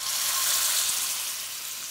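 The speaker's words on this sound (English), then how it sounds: "I cut it in half because I'm gonna brown this on the stove in a second" Pork pieces browning in a hot pan on the stove give off a steady broadband sizzle, close and continuous with no talking.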